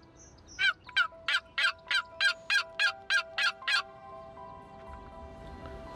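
A wild turkey at dawn gobbles in a rapid burst of about eleven evenly spaced, loud rattling notes that stop abruptly, leaving faint background birdsong.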